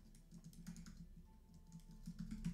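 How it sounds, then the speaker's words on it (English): Typing on a computer keyboard while building components in Webflow, a steady run of soft, close key clicks and taps over a low background hum. "we're just typing it over here"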